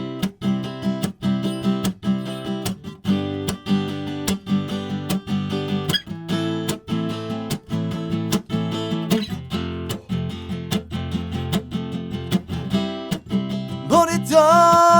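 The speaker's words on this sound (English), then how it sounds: "Same chord progression. It'll just sound like this with strum pattern 2." A guitar strums a chord progression from a song in a steady rhythmic strum pattern, chords ringing clearly and alone throughout.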